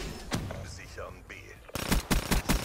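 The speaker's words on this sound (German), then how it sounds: "Die schießt zwar Salven" Burst-fire fully automatic weapon in Black Ops 3 Infection mode shoots rapid salvos, several sharp loud bursts crowding the second half after quieter game sounds and brief talk.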